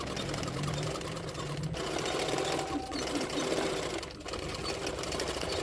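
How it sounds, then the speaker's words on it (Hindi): A sewing machine stitches the side seam of a double katori blouse, main fabric layered with lining, running in steady rapid bursts with short pauses between runs. "अभी साइड की तरफ से, मतलब साइड से सिलाई कर लेना है।"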